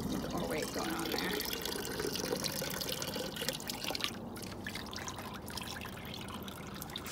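Alpaca fiber is washed by hand in a bucket of water, with continuous sloshing, dripping and trickling close by and a faint voice in the background.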